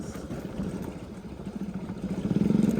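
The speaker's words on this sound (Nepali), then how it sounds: "हेर्नु न बाइकको साउन्ड चाहिँ फायर" A motorcycle engine rumbles steadily during a group ride in Nepal with three bikes, a low throbbing note that grows louder and more pulsing toward the end.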